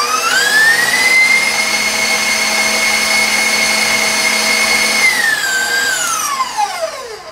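An electric stand mixer beats butter and sugar for a lemon syrup loaf cake, its motor whining up to high speed, holding a loud steady pitch for several seconds, then slowing and winding down.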